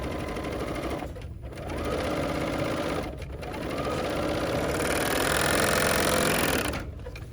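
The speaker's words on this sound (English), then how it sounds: "if you were using a sewing machine for this" A sewing machine stitches in fast, steady runs, pausing briefly twice between bursts of rapid mechanical chatter, close and clear.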